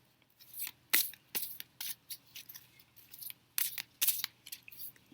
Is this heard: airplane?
no